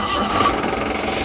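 A lifted jeep with a 2600cc DI turbo engine runs loud and close after a self-start, a steady rough mechanical drone that holds through the whole brief moment, with no talk.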